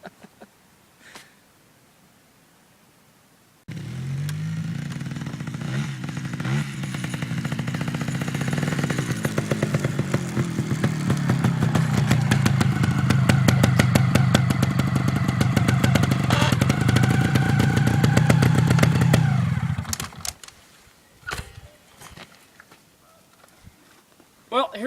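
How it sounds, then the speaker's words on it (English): Trials motorcycle being ridden, an engine starting up and running with a steady rapid putter that swells and revs for about sixteen seconds before cutting off, close by, with a voice talking over it. "here's my summer hobby. It's called a trials bike."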